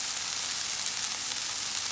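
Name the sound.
okra frying in a pot, salt mixed in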